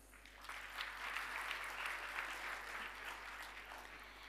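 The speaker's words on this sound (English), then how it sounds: "So give yourself a hearty applause." A graduation ceremony audience gives sustained applause, a dense wash of clapping from a large crowd, heard from a distance and fairly faint.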